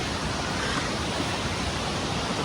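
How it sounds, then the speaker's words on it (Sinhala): Steady rushing water at a bathing place near Badulla town, Sri Lanka, a dense continuous roar of flowing stream water close by, unbroken and fairly loud with no voices. "වතුර පාර නම් සාමාන්‍ය ගානකට තමයි තියෙන්නේ"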